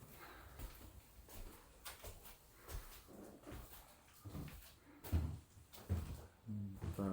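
Wooden cupboard doors in an empty, unoccupied house in Yokohama's Nishi-ku, Japan, opening with a string of knocks, creaks and light thumps, close and moderately loud, ending in a few firmer bumps.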